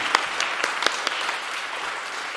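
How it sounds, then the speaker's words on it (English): A small audience at a Sunday Assembly gathering claps, a few distinct sharp hand claps standing out over a soft, even patter that gradually thins. "Another round of applause for that"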